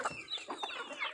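Chickens on a farm clucking at close range as they follow along at feeding time, with several short, overlapping calls across a brief moment.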